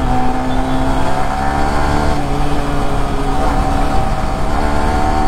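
A motorcycle being ridden and revved on a weekend road ride, its engine drone loud, steady and close throughout with sustained harmonic tones and no break.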